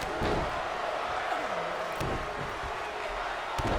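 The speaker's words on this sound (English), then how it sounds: "The crowd chanting "Fight Forever."" Crowd chanting "Fight Forever" in the WWE 2K23 wrestling video game, a steady roar of massed voices with a few sharp impacts, heard at a distance in the arena.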